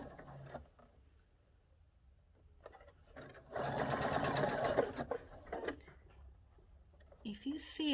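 A sewing machine stitches across the bottom of box pleats in one loud, steady burst of about a second and a half, with a person talking before and after it.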